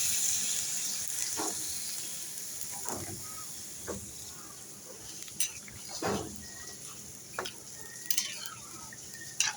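Papaya fish curry in a pan, with broth added to the papaya, makes a soft sizzle while a spoon stirs and scrapes in scattered clinks and strokes, quiet and close.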